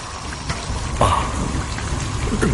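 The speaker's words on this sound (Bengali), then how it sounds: "তা বৃষ্টিটা শুরু হোক" A rain sound effect in a Bengali horror audio drama: a steady, close, dense hiss of falling rain that fills the whole stretch, with a few brighter splashes and a short swell near the middle.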